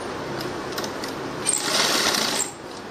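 A sewing machine stitches a salwar kameez in one continuous close run, with a steady whirring hum that briefly grows louder before easing off.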